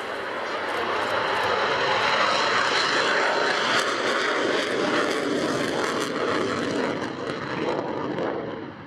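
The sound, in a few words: Belgian F-16 jet display at an air show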